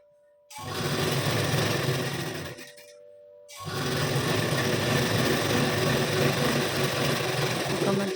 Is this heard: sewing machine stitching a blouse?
yes